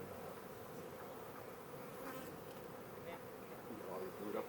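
Honey bees buzz steadily around an opened, honey-heavy hive with brood frames, a dense continuous drone close by, with no talking.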